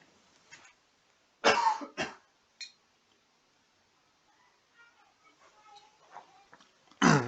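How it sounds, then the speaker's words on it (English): A few sharp coughs burst out close by, separated by pauses, with faint shuffling and a soft voice-like murmur in between. "If you're wondering why I'm coughing"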